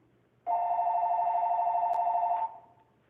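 A telephone rings once indoors, a steady two-second electronic bell tone, close and clear, starting abruptly and fading out, with no talking over it.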